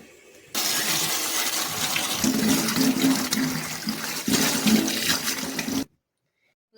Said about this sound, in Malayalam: ഇനി നമുക്ക് നന്നായിട്ടൊന്ന് കഴുകിയെടുക്കണം.